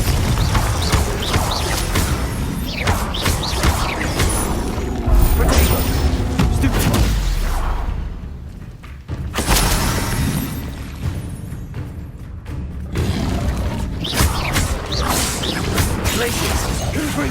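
Confringo blasting spells in Hogwarts Legacy crash and boom repeatedly amid dense whooshing and clattering combat noise, a loud, busy wash broken by a brief lull midway.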